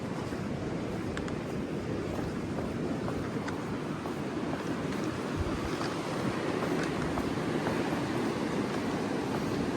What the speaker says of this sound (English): Let's just sit here for a bit and watch the sea come in